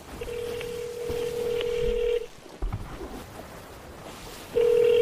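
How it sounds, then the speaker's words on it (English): Telephone tones sound inside the pirate game Sea of Thieves: a sustained steady tone, a brief pause, then the tone returns, over faint ambient noise. "I'm calling Saul right now."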